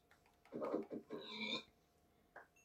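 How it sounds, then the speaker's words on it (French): A Minecraft pig taking damage in the video game gives a few short, faint squealing grunts in quick succession, followed by a brief quieter squeak. "Monsieur Cochon a dû avoir mal."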